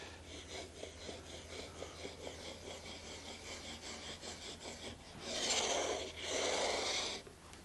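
A wooden guitar fretboard is radius sanded by hand with sandpaper, a steady back-and-forth rasp in even strokes that grows louder and broader for two long passes toward the end, close and with no talk.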